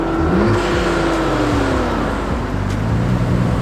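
A twin-turbo Nissan 300ZX fitted with a full HKS Hi-Power exhaust revs steadily, its loud droning exhaust note rising and falling and holding strong throughout, with no talk over it.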